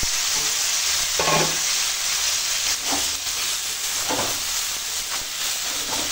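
Pumpkin, ridge gourd and eggplant sauté in spices in a pan with a steady, close sizzle and hiss, broken by a few scraping stirs.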